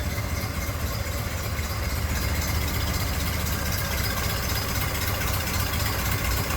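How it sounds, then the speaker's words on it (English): A 1931 Ford Model A roadster's inline four-cylinder engine idles smoothly and steadily, a continuous even rumble heard close up with the hood raised, with no talking over it. "Beautiful, smooth running inline four-cylinder there."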